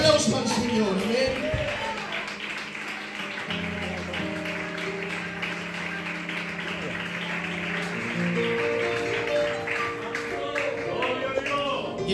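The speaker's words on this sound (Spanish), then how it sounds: "Dale un aplauso al Señor, amén." A church congregation applauds steadily for several seconds, a dense wash of many hands clapping in a reverberant hall with sustained tones beneath.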